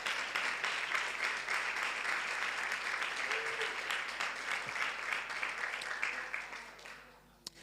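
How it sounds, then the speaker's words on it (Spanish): Congregation applauding during a church sermon, a broad sustained wash of many people clapping that holds steady and then tapers off toward the end. "Dale un fuerte aplauso al Rey."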